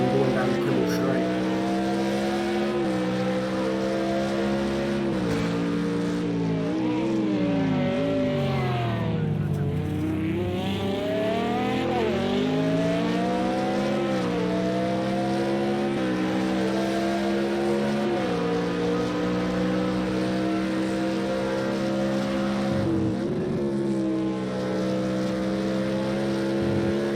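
GT1 race car engines roar at Spa in Project Cars 2, one loud, high-revving engine climbing and dropping through gear shifts with other cars audible around it.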